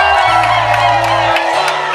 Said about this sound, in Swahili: Makofi kwa wana vigeregere